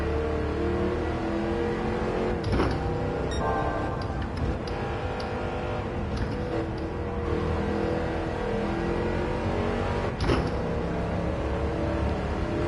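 Car engine revving steadily in Gran Turismo 7 with the clutch slipping, a loud sustained drone with harmonic whine and a couple of brief sharp bursts, no talking.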